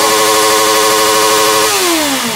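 A Honda CB 650R four-cylinder motorcycle engine held at the rev limiter with the bike parked, a loud, steady high-pitched buzzing wail that drops in pitch near the end as the throttle closes.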